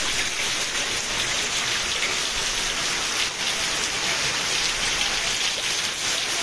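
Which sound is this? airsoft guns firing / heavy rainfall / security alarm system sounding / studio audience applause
heavy rainfall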